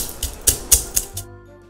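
Green cardamom pods cracked and peeled by hand for a Goan ash gourd sweet, four or five crisp, dry clicks in quick succession, close and clear, followed by a faint low hum.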